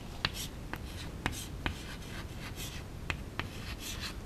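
A pen writes an answer by hand on paper in a quiet room, short scratchy strokes with small taps between them, faint and close, with no talking.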